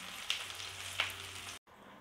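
A breadfruit slice cooks over low heat in a skillet with a soft, steady sizzle, two brief bright spatters, and a short drop to silence near the end.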